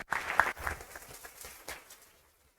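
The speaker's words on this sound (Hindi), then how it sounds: "ताली बजाइए इनके लिए भी।" A class of students claps for classmates, a short burst of applause from a small group that quickly thins out and fades to silence.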